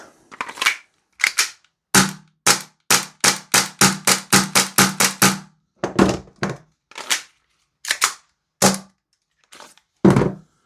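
A Novritsch SSP-5 gas airsoft pistol fires a long run of sharp, loud, close shots, first in quick succession and then in more widely spaced single shots, with no voices.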